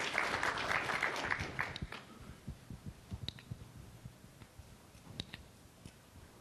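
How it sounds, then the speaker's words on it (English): A conference audience at a developer event claps briefly, loud at first and then tapering to scattered individual claps. "spontaneous applause is warmly received"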